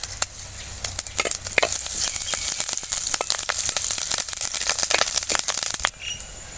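Shallots, green chillies and curry leaves sizzling hard in hot oil during a tempering, a dense, crackling fry with sharp spits and pops throughout before easing off at the very end.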